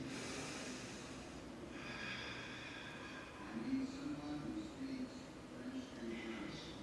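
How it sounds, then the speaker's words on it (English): Rapid, forceful nasal breathing from a yoga breath-of-fire exercise during a vinyasa flow class, a steady run of sharp snort-like exhales with a noisy, breathy texture throughout. "Stay with your Ujjayi breath, your breath of fire. Inhaling through the nose and exhaling through the nose."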